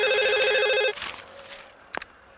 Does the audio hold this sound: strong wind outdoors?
no